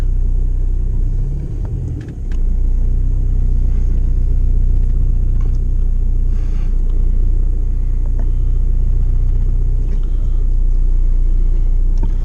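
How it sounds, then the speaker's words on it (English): A Volkswagen Polo 6N with a 1.9 diesel engine rumbles steadily as it is driven slowly into a garage, its low engine drone close and continuous with no talk. "try and drive the car in under it without running anything on the floor over"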